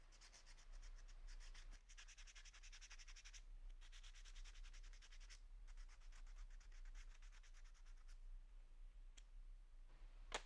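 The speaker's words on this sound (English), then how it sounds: "Just going to use a little bit of 150 right here and go around the surface of the areas" Stormtrooper armor is hand-sanded with 150 grit sandpaper in quiet, steady rubbing strokes with soft scratchy bursts and small clicks, close by and faint.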